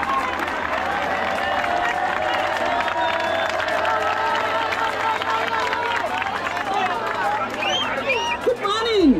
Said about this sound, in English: A round of applause to her, please.